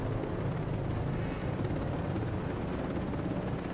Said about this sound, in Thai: เป็นเฮลิคอปเตอร์ที่โคตรนิ่ง